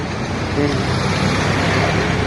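Tricycle traffic moves along a road in the Philippines, a steady loud wash of engine and road noise close by with no pauses, and voices faintly mixed in.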